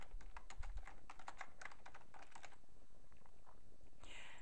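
Typing on a computer keyboard, a quick run of close, crisp key clicks for most of the stretch, then a few sparse strokes as it slows.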